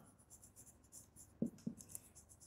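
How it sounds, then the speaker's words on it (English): Chalk or marker writing on a board during a math lesson, a few short scratchy strokes close by against a faint background hum. "Let us write here"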